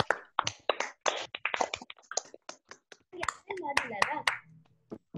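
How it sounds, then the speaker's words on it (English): Participants on a video call clap their hands, and the scattered, uneven claps mix with talking voices. The sound is close and clipped, with no full crowd swell. "Unmute yourselves for 5 seconds and give her a round of applause"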